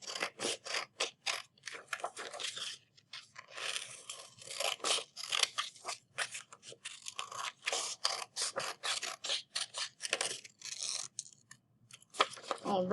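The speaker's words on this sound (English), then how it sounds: "And now I'm going to cut it out." Scissors snipping through paper to cut out a big rounded triangle shape, rapid repeated close crisp cuts in an uneven rhythm throughout.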